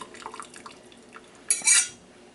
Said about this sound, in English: I'm just going to drain them.